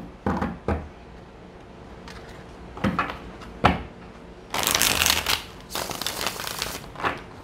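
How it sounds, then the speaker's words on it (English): Tarot cards being shuffled by hand in several separate bursts, short riffling and tapping sounds with quiet gaps between them, ending in two longer, louder shuffles near the microphone. "Okay, let's get two shuffles."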